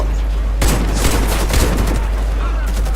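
Gunfire in the shooter game WarFace: a dense, loud volley of rapid shots that starts abruptly and keeps crackling over a constant low hum.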